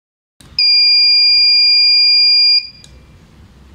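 Buzzer of a GSM/GPS vehicle accident detection system, one loud piercing steady electronic tone lasting about two seconds before cutting off, then faint background hum.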